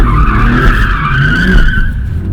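Loud tire squeal as a BMW M2 spins donuts, a long wavering screech over a rumbling engine, close by.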